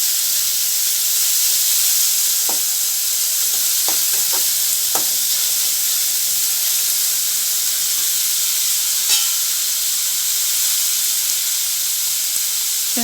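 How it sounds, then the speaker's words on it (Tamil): Green chilli and finely chopped tomatoes fry in hot oil in a pan for an egg omelette curry, giving a steady loud sizzle with occasional sharp pops and crackles and no talking. "ஒரு பச்சை மிளகாயை சும்மா அப்படி உடச்சி போட்டுமோ வெடிக்கும்"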